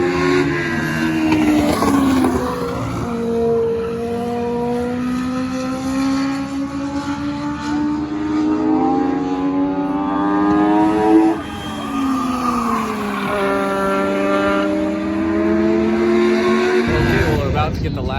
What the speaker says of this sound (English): We got a few other cars in the mix with her.